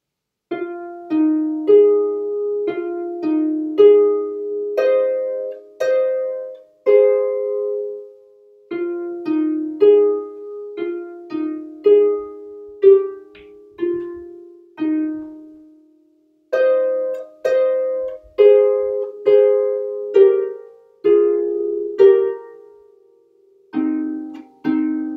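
Solo piano plays the beginner piece Little Frogs from start to finish, close and clear, in short bouncing phrases of repeated detached notes with brief pauses between groups.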